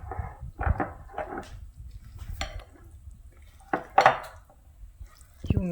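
Cake batter with eggs being mixed in a bowl, with scattered clinks and scrapes of a utensil against the bowl, close and intermittent.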